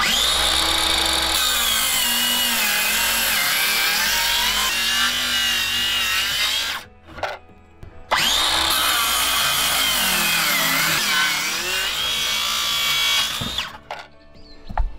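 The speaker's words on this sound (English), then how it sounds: "you can make it easier on yourself by cutting the boards into smaller sections" A power saw rips through deck boards in two long, loud passes, each about six seconds, separated by a brief pause, with a short burst at the end.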